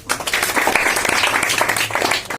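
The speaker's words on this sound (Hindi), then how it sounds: "ताली बजाओ यार।" Steady audience clapping fills a quiz results prize distribution as a third-place winner is announced, dense and continuous from start to end with a faint low hum beneath.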